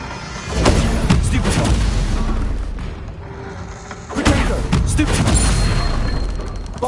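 Booming Bombarda blast spell erupting in Hogwarts Legacy combat, two loud explosive bursts with rumbling tails amid other spell effects, the second starting a few seconds in and sustaining.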